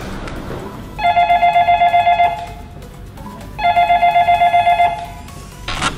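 A telephone rings twice in long electronic trilling bursts, each lasting over a second with a pause between, over faint background noise.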